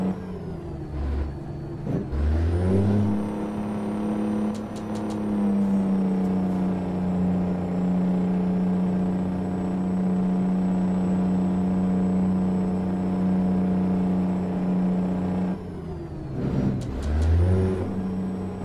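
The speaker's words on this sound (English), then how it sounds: "I can't turn off my engine braking." Heavy truck engine braking in American Truck Simulator on a special transport route, a loud sustained low drone with steady harmonics held for about thirteen seconds, bracketed by brief revving shifts at start and end, with no talk.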